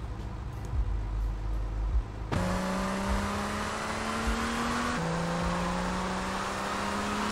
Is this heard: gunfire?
no